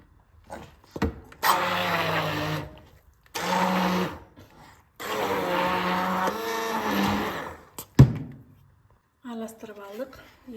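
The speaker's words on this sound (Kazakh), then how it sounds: "Бұған ең барлығын блендермен араластырып шығамыз." A blender mixing cottage cheese pie batter with sugar and eggs runs in three loud motor bursts separated by brief pauses, with a voice heard near the end.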